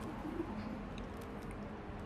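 Soft, low cooing of racing pigeons settled in their loft blends into a steady background murmur, continuous and fairly quiet throughout.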